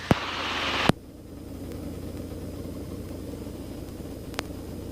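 Helicopter cabin during a flight lesson, with a steady low engine and rotor drone running throughout and a couple of sharp clicks, one near the start and one near the end.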